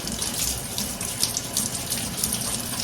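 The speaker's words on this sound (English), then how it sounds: "I did put a little soap on them. And I'm going to rinse them" Vegetables being rinsed under a running kitchen tap at the sink, a steady close hiss of flowing water with light splashing and no talk.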